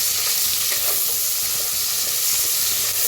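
Sliced onions roasting with whole spices in a hot pan give a steady, loud sizzle and crackle, with occasional stirring scrapes throughout.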